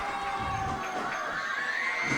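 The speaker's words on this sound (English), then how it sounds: "And the crowd is going nuts" A wrestling crowd at an Over The Top match between Jake St Patrick and Damarius Jones cheers wildly, a dense, steady roar of many voices filling the whole stretch without a break.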